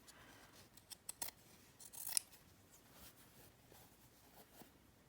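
Scissors cut material to length in a quiet room, with a few faint, crisp snips clustered in the middle.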